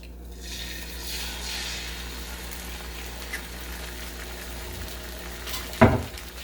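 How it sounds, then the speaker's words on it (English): An egg sizzles and fries in a hot buttered pan, a soft steady crackle throughout with a sharper clatter near the end, no voices. "now that the pan is hot and buttered"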